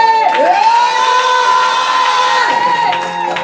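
A church congregation at a wedding sermon cheers and acclaims the newlyweds in a sustained crowd roar with whoops, loud and continuous throughout, with a high whistle-like tone running through it.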